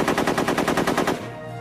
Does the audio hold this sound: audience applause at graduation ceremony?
no